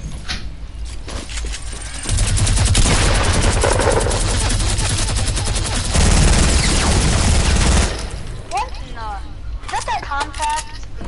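Sustained rapid automatic fire from a golden minigun in a shooter video game, a loud continuous roar lasting several seconds, with talk before and after it.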